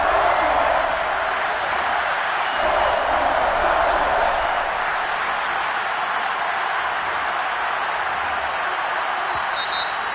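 Stadium crowd at a football game, a steady broad roar of many voices on a third-and-long play, continuous and fairly loud throughout with faint scattered cheering, no clear single voice standing out.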